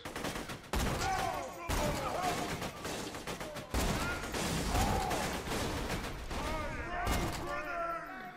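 Rapid bursts of gunfire in Borderlands 2 come in several loud volleys with short gaps between them, while a voice talks over the shooting.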